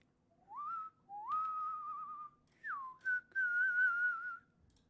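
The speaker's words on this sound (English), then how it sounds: "I'm just getting a little bit of whistling done to make everybody in chat jealous" A person whistles a quiet, wavering tune alone in a few short phrases that slide upward and hold, with brief pauses between them.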